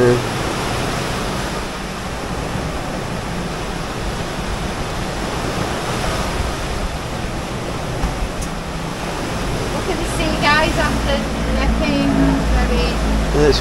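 Choppy sea waves wash and churn steadily under a grey, cloudy sky, a loud continuous broadband rush with gusty wind noise throughout.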